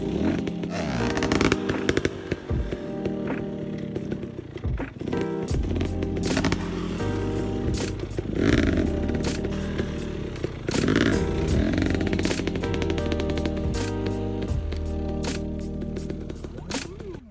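A motorcycle practises slow wheelies on a slight decline in the red hills, its engine revving and bouncing close by throughout, with loud, uneven throttle surges.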